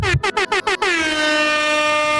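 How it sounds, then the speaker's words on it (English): A loud air horn blasts in a quick series of short stuttering bursts, then holds one long sustained blare that slowly fades. "Got air horns."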